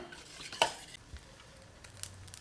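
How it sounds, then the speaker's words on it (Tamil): Close clink of a spoon against a bowl, followed by soft, wet stirring of thick rava dosa batter, quiet and brief. "நல்லா கலந்து விட்டுக்கலாம்"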